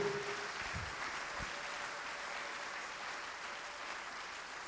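A congregation applauds during a French-language church service, producing a steady, diffuse wash of clapping that holds throughout at an even level.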